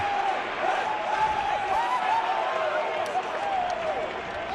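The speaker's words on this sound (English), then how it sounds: "you hear the crowd with the chant of Poppy" A baseball stadium crowd at a Red Sox–Indians playoff game in Boston chants "Papi", a steady, loud roar of many voices with a repeated rising melodic call running throughout.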